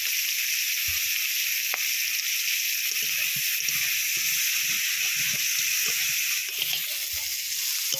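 Chopped garlic goes into hot oil with browning onion and green chili for a cabbage dish, producing a steady, close frying hiss with light stirring knocks beneath it.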